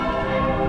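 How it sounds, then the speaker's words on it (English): Church bells ringing in Alsace, a dense, sustained layer of overlapping tones that stays steady and fairly loud through a short moment, with no voices. "Some significant church bells."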